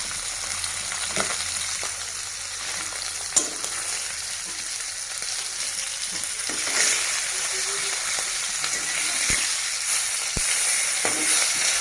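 Fish fries hard in a pan for a crisp, well-browned finish, giving a steady, dense hiss that runs the whole stretch with a few brief clicks and knocks, and a faint hint of household background noise.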